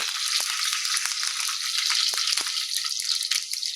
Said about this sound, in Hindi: तेल गरमा गेल है। आब ओइमे 8टा फान लहसुन के दऽ देबै